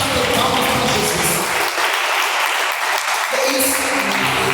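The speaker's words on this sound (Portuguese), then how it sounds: "Pode bater palmas para Jesus." Church congregation clapping their hands during a live worship service, a loud continuous wash of applause, steady and close throughout.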